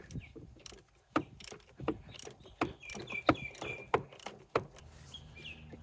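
A 27mm socket and ratchet work the oil filter housing loose on a Jeep Wrangler JK 2.8 CRD, giving a close series of sharp clicks and ratcheting ticks in an irregular rhythm, with no talking.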